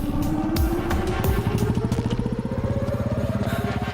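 A motorcycle engine in a movie scene revs close and loud, its pitch climbing steadily into a fast, throbbing pulse as the bike speeds up.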